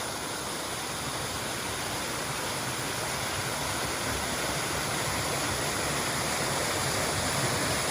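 Risbys Falls in Tasmania's Valley of Waterfalls pours down a wide cliff face, a loud, unbroken broadband roar of falling water that fills the scene without any pause or voices.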